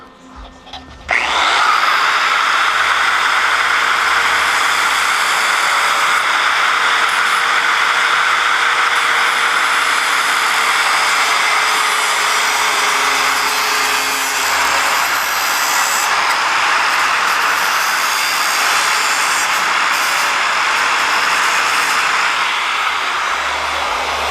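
A side grinder cuts off the bottom lip of a 1946 GMC truck body with a loud, continuous high whine that holds steady for over twenty seconds after a brief spin-up, its pitch dipping slightly as it bites into the metal.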